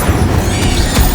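An Incendio fire spell is cast in Hogwarts Legacy, giving a dense, roaring whoosh of flame with a low boom that runs steadily for about a second and swells at the end.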